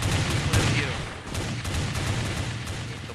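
Gunshots in a Brawl Stars-style video game come as a dense, steady barrage of rapid shots and impacts, with game sounds mixed in and a voice partly audible underneath.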